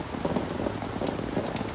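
Heavy rain pours onto an outdoor sofa with a coarse, open-weave cushion, a dense, steady patter close by with no voices.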